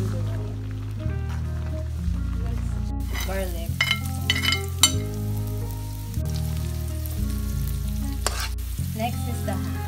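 Pasta frying in a pan while being stirred, with a loud continuous sizzle, repeated scraping strokes and clatter, and a strong steady low hum running throughout.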